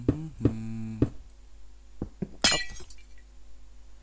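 Glass block breaking in the video game Minecraft: a loud, sharp shatter with a bright crackling tail, preceded by a few low game thuds and clicks, with no talk.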